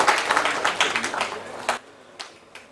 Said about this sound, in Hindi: एक बार तालियां बजा के मुझे इजाज़त दें